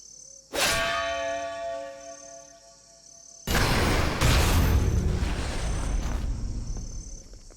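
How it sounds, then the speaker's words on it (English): A bell rings out in the video game Octopath Traveler II: a single resonant clang with a long ringing decay, then a loud booming burst of game sound and rumble. "The bell heralds your defeat."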